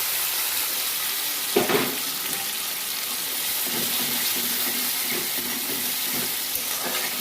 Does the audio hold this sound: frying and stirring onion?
yes